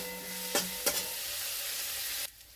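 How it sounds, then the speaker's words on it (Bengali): Vegetables seasoned with salt and turmeric fry in a pan with a soft steady sizzle, two quick stirring scrapes near the start, and the hiss drops away just before the end. "দিয়ে ভালো করে একটুখানি ভেজে নিই"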